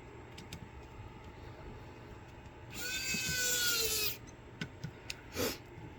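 Whirring of a small screwdriver turning a silver screw back into a Garmin Nuvi 1350 GPS unit during reassembly, a close high-pitched burst of about a second and a half amid faint clicks and handling taps.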